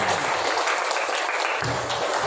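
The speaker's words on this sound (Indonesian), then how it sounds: "tepuk tangan dulu yang meriah" Primary school pupils in a fifth-grade classroom burst into a loud, dense round of clapping that runs steadily for a couple of seconds, close and energetic with no talking over it.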